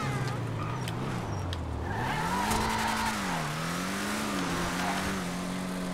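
BF Weevil car with a Benny's custom upgrade accelerating hard in GTA Online, a steady engine drone rising and falling in pitch as it revs through gears, loud and continuous with faint tire noise.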